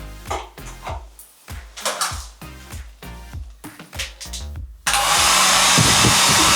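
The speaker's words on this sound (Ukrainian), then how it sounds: "А фен працює?" In a hotel room, a steady, loud whooshing hum of a hair dryer switches on abruptly after a stretch of rhythmic, percussive music and keeps running evenly.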